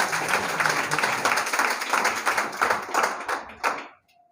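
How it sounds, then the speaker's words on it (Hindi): Students in a classroom applauding a classmate named Sudhanshu, a dense burst of many hands clapping for about four seconds before it quickly dies away, with faint voices underneath. "सुधांशु के लिए जोरदार ताली लगाइए आप।"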